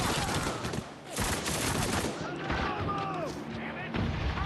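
A weapon fires in the video game Spec Ops: The Line as dense, continuous booming gunfire and explosions, loud throughout, with voices faintly mixed in.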